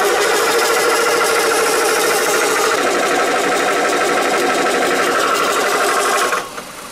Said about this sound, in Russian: Довольно быстро эти компрессоры заправляют винтовку.